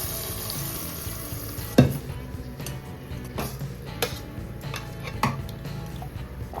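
Fish pieces dropped into a frying tomato mixture for Nellore fish curry, a low steady sizzle broken by a few sharp clinks and knocks of a utensil against the pan.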